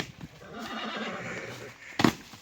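A horse gives a short, loud whinny near the end, standing out sharply from a steady outdoor background after a stretch of quieter murmuring.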